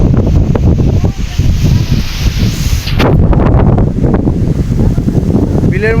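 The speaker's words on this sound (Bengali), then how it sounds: "দেখুন কি পরিমাণ বাতাস, এখানে দাঁড়িয়ে থাকায় খুব কষ্ট হয়ে যাচ্ছে" Strong storm wind sweeping across an open wetland, roaring and buffeting the microphone in heavy gusts, with rustling and a faint whistling tone near the end.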